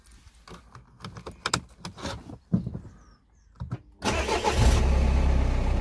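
A right-hand-drive Mini Cooper R56 has its engine started after battery work: a few scattered clicks and mechanical knocks, a short quiet pause, then the engine catches and settles into a loud, steady idle close by.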